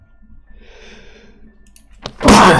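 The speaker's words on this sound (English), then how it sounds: "I tried to hit the mute and sneeze out, but didn't work very good" A sharp sneeze bursts out near the end, loud and close, following a quiet stretch of soft breathing and faint background noise in a home recording setup.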